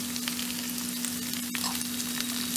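Capsicum and large onion pieces frying with garlic, ginger and green chilli in a little oil, a soft continuous sizzle with a faint steady hum underneath and one brief knock.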